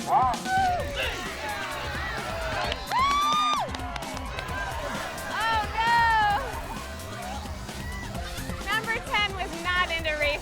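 A crowd at a carabao event in Isabela, Philippines cheers and shouts outdoors, with voices rising in excited swells and some whoops over a steady hubbub of people talking nearby.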